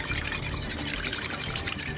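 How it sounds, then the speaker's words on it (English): Ice water is poured into tempura batter made with egg, producing a continuous close trickling, splashing pour that runs steadily for the whole two seconds. "I'm gonna pour in some ice water."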